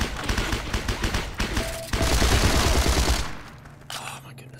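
Rifle gunfire rings out in the World War II shooter Heroes & Generals as a rapid burst of repeated shots, loud and close, followed by a few sparser reports and fading battle noise.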